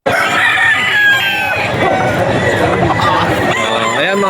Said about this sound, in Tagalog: basta mga manok ni Boss Perry, mga quality mga idol.